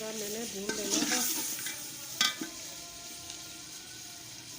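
Potatoes stir-fried with tomato, ginger and garlic masala in a pan, a steady sizzle with scraping stirs and a few sharper clinks, close and moderately loud.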